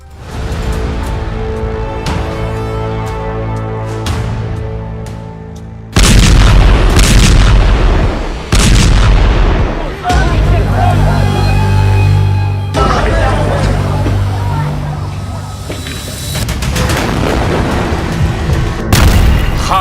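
Heavy artillery shells explode over Gaza, deep booms repeating across the clip, with loud blasts layered over rumbling tones and overlapping noise.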